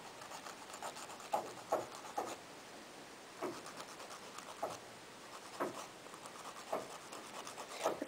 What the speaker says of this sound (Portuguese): Vamos lixar mais um pedacinho aqui